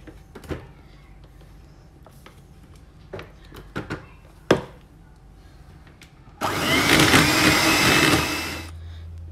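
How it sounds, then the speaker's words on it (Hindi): An electric hand mixer beats butter and egg together for chocolate chip cookie dough, a loud steady whir of about two and a half seconds after several light clinks and knocks. "अब उसके बाद मैं इसमें बटर डालूंगी और फिर इसको मैं बीट करूंगी"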